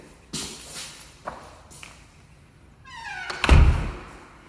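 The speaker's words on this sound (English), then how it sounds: "Shut this door for you here." A door thunks shut with a solid knock near the end, after a few lighter clicks and creaks; no talking.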